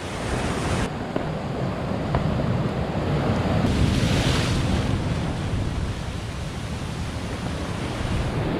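Ocean swell breaks near a headland, a loud, constant wash of surf mixed with heavy wind buffeting the microphone, with no voices.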